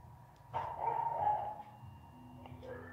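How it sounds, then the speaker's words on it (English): A dog barks over multiplayer voice chat during a Call of Duty: Infinite Warfare session, sounding as one drawn-out, somewhat muffled bark-whine, moderately close and compressed, followed by faint electronic tones. "That's somebody else's dog on the multiplayer."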